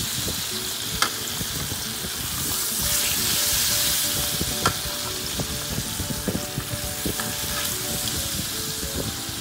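Pork chops fry in a thin layer of cooking oil in a pan, a loud, continuous close sizzle with scattered pops and crackles throughout.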